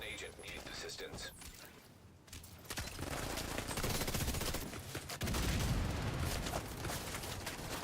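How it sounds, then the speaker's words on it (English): Heavy booming impacts and gunfire in the game The Division 2, with a mortar blast among the loud battle din, layered with repeated shots and a person talking over the chaos. "that mortar almost got me"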